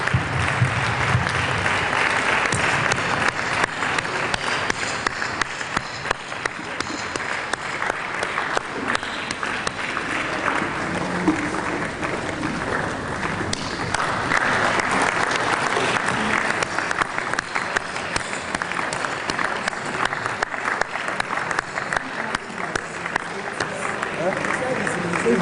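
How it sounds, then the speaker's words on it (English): Sustained applause from an audience at an engineering society's founding fathers day lecture, steady clapping filling the hall for the whole stretch as an elderly honoree makes his way to the podium, with some voices mixed in. "Please clap for him until he gets to the stage."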